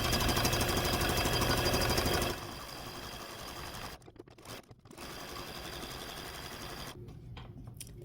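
Sewing machine stitching quilt applique: a loud steady run of rapid stitching for about two seconds, then quieter intermittent stitching with brief pauses and stops.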